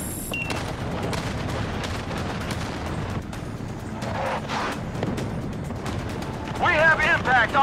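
Distant artillery fire and steady battle rumble in the Battlefield: Bad Company campaign, continuous loud booms and gunfire textures with radio chatter, a sharper burst near the end.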